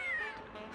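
A single cat meows close by, one short rising-then-falling cry that fills most of the brief moment, with no voices around it.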